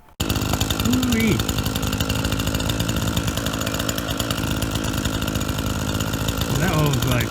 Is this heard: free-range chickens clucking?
no